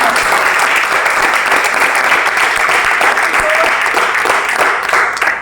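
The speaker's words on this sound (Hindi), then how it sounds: "मैं चाहूंगा एक बार जोरदार ताली होनी चाहिए।" Loud, dense applause from an audience at a direct selling herbal products business meeting, steady and sustained for several seconds before starting to fade at the end.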